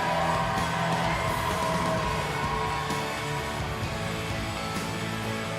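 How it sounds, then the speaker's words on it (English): Large crowd at a women's timbersports championship applauding and cheering for a medalist, a dense, steady wash of clapping, whoops and shouts sustained loudly throughout. "One more big round of applause"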